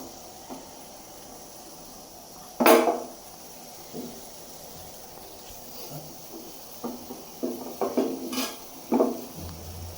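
A utensil is washed before rice roti is made, with one sharp splash and clank, then scattered knocks and water sounds growing busier toward the end.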